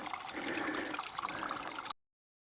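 Mountain stream on Hell Brook Trail, Mt. Mansfield, rushing and splashing steadily in a continuous broadband wash, close and moderately loud, ending abruptly after about two seconds.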